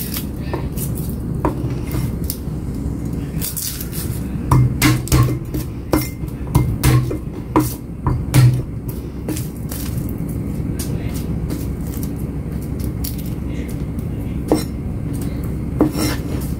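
A knife taps rapidly against a cutting board while mincing three garlic cloves in a home kitchen, a dense run of close, sharp chops with brief pauses, no talking.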